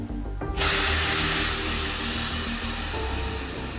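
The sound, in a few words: air-powered vacuum pump cleaning aircraft fuel tank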